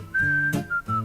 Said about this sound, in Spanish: El silbido, ¿no?